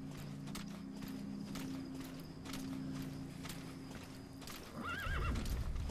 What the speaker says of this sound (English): is there any way I can tell my stupid horse to go away?